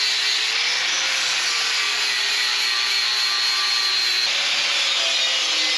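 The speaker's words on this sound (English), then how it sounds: "I'll take a flap sanding wheel on the grinder and I'll hit it one more time" Steady, continuous abrasive grinding with a high whine, a flap sanding wheel on an angle grinder working steel close up, running without pause throughout.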